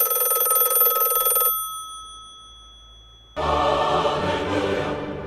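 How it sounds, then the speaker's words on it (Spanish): A loud, steady electronic telephone ring sounds, pauses for a couple of seconds of near quiet, then rings again, close by with no talking. "Que suena el teléfono."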